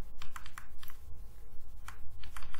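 Steady, fairly loud typing on a computer keyboard while entering HTML code, a fast close run of keystrokes with no voice over it.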